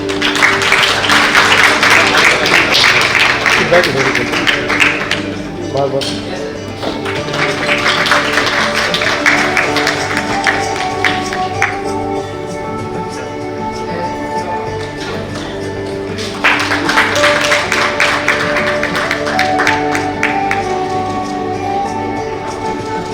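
Loud, sustained audience applause at a film event honoring guests on stage, a thick wash of clapping that swells and dips over twenty seconds, with background music tones running beneath the crowd.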